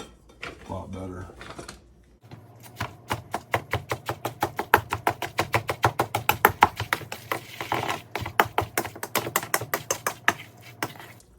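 Knife rapidly chopping food on a cutting board for a homemade backcountry meal, a long, quick, even run of sharp close taps following brief talk at the start.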